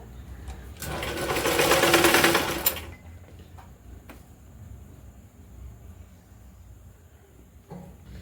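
A sewing machine runs in one loud, close burst of fast stitching on cloth for a jute bag made from old fabric, then stops, leaving faint clicks and handling sounds.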